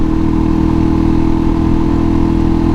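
Suzuki DRZ dirt bike engine running on a dirt fire road in a national forest, a loud, steady low-pitched thrum with a rapid rhythmic pulse, close and continuous with no gaps.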